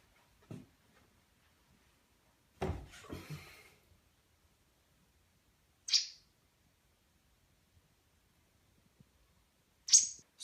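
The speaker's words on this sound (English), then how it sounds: "She just chirps, and it's like every hour." A hungry baby bird gives a few short, high-pitched chirps, separated by long silent gaps in a quiet room, with some faint handling noises between them.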